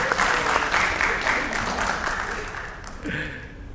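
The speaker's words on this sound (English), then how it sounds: "And can we give Bronwyn a round of applause for being such a great parent?" Audience applause at a peace forum session, a full burst of many hands clapping that gradually thins and fades, with a voice briefly cutting in near the end.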